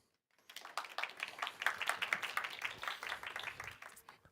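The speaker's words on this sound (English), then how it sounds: "Please give him a round of applause." Audience at a Creative Technologies event on AI for music and performance applauds as a speaker is welcomed to the stage, a steady round of clapping that swells after a brief silence and holds, fairly soft and distant.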